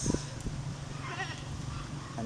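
Farm goats give a few short bleats near the start and a wavering cry in the middle, fairly faint over a low background hum, with no talking.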